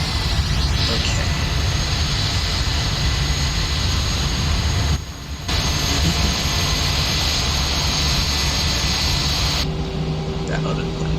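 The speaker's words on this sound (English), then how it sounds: "Turn up the engines." Airliner jet engines in the Prepar3D flight simulator roar steadily at high power, a loud continuous rushing whine with a brief dip partway through and a thin tone that rises near the end.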